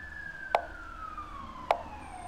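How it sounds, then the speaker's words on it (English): An emergency siren wails outside, a distant, fairly faint tone gliding slowly downward in pitch, broken by two sharp nearby clicks. "And then ambulance is coming."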